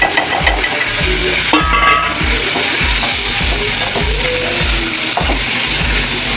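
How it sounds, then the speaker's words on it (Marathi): Cluster beans sautéing in hot oil with turmeric and onion, a steady loud sizzle and crackle that fills the whole stretch, broken by regular clanks of a spoon stirring against the pan. "इथं आपण तेलावर गवार परतून घेऊया"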